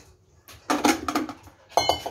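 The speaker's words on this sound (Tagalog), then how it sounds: "Ito yung plato ni Toy Toy." Ceramic plates and dishes clink and clatter as they are set down in a home kitchen, a few close bright knocks arriving in two quick bursts with no talking.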